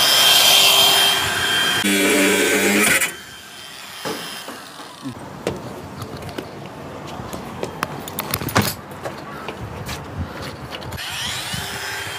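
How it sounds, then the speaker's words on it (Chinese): Unscrewing a screw on an air conditioner unit, with scraping, rubbing and metallic clinks of the tool working close by after a louder noisy opening. "开始拆第2个螺丝。"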